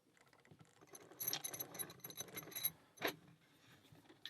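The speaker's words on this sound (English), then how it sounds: "let's get it in a vise" A small brass padlock is handled and clamped into a vise, making quiet metallic clicks, taps and rattles in a short close-up burst with one sharper knock near the end.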